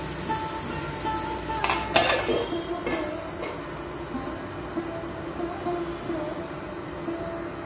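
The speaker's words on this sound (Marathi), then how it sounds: "कांदा चांगला शिजून घेऊया।" Chopped onion fries in a pan for a snake gourd and val bean curry, a steady close sizzle with a few clanks of a utensil or lid against metal early on.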